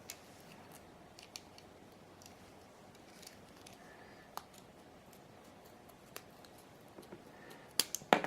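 Scissors snip a curtain tag in a few quiet, scattered cuts, with a louder cluster of sharp snips right at the end; no one speaks.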